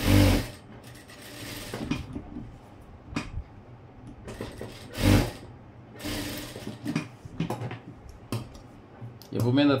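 A sewing machine stitching a blouse runs in several short bursts of rapid needle clatter, separated by pauses, close up, with someone talking between the runs.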